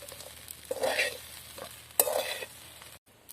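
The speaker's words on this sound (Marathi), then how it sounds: "तर आता पाच ते सहा मिनिटांपर्यंत आपल्याला असं सालवीत राहायचं आहे म्हणजे पोहे चांगले गरम करून होतील" Kanda poha being stirred in a pan, with a few scraping strokes of a spoon over a light sizzle, close and moderately loud before a short silence near the end.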